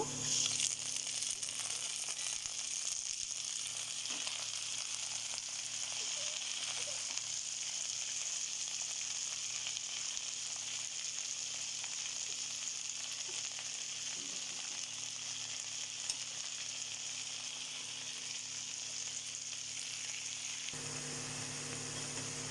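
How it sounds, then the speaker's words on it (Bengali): Chopped onion and garlic frying in oil for a tempering, a steady, even hiss of sizzling that runs on without a break and stops sharply near the end. "আমার পেঁয়াজটা আর রসুনটা লাল হয়ে গেছে, এখন আমি শাকটা দিয়ে দেবো।"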